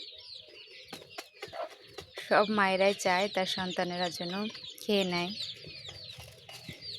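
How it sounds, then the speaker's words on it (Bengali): A village mother hen gives repeated rhythmic clucks as she calls her chicks to food, loud and close, with someone talking between bursts. "মা মুরগিটা কি সুন্দর তার বাচ্চাদেরকে ডেকে ডেকে খাওয়াচ্ছে"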